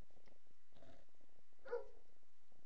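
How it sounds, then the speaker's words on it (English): A dog barks indoors, a few short faint barks spaced apart against a quiet room background. "Dog was barking. Barking dog."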